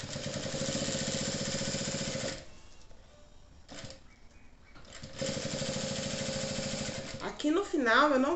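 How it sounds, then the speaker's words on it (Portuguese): A sewing machine runs in close, steady bursts while stitching a seam on a bath-time zippered pouch, pausing briefly for a quiet handling gap before stitching again and making a reverse stitch; a voice speaks at the end. "Vou dobrar aqui e vou passar uma costura aqui."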